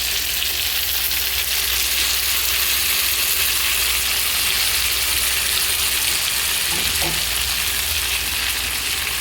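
Drumsticks (sajne danta) fry in oil with a paste of mustard, poppy seed and green chilli, a steady dense sizzle running loud and unbroken throughout, with a faint scrape near the end.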